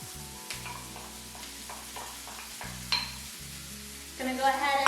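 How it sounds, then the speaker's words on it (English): Mushrooms, onions and peppers sizzle quietly in a pan with a steady low hiss, while a utensil stirs in regular scraping strokes, close and without talking. "we're gonna go ahead and add the onions and peppers."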